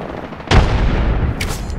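A grenade goes off in the Loba battle game, a sudden heavy boom that rings out over ongoing rumbling game noise, followed by a short bright crackle.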